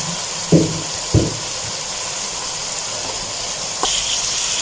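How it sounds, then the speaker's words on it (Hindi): Chicken pieces frying in a pan with chopped tomatoes, a loud, continuous sizzling hiss close up, broken by a few soft clunks of stirring. "और अभी डालते हैं चिकन कर लेते हैं फ्राई।"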